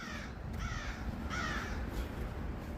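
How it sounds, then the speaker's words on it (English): Crows cawing outdoors on a wet, snowy January street in Chicago around noon: two harsh, drawn-out caws about a second apart, moderately close, over a constant wash of traffic and city noise. "Crows are calling my name."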